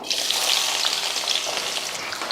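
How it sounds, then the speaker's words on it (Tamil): Small onions (shallots) fry until golden in hot oil for a chicken curry, a bright, continuous sizzling and crackling hiss with small pops, close and fairly loud, no talking. "வெங்காயத்தை நல்லா பொன்னிறமாக வதக்கிடுவோம்"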